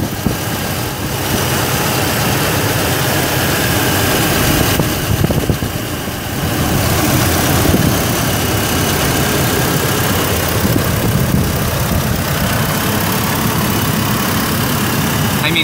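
A 2006 Chevrolet Colorado engine idles just after startup, a loud, steady rumble with a broad hiss that holds evenly throughout, recorded close with slight wind buffeting.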